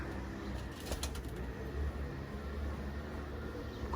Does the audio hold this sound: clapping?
no